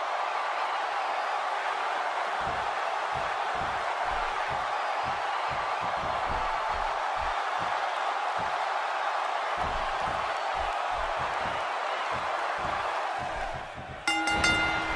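Arena crowd noise from the wrestling video game WWE 2K16, a steady roaring wash of cheering throughout with a brief louder clang near the end.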